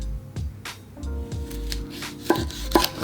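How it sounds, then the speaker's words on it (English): A knife slicing into a Vietnam White dragon fruit, with several soft cuts and two sharper taps near the end, close by and without talk. "We're now slicing into Vietnam White."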